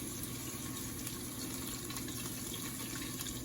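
Liquid tallow pours through cheesecloth in a strainer, giving a continuous, even trickling and splashing rush that stays quiet and steady throughout.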